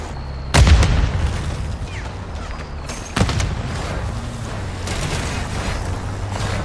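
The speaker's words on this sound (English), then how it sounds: "Grenade!" Grenade blast in Modern Warfare 3 Zombies: a sharp, loud boom bursts out, followed about three seconds later by a second heavy detonation, with continuous combat rumble and scattered gunfire filling the background.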